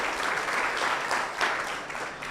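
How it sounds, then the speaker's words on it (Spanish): A church congregation applauds together, a steady dense wash of many hands clapping that holds evenly throughout with no voices on top. "Podemos darle un aplauso a Dios en este momento"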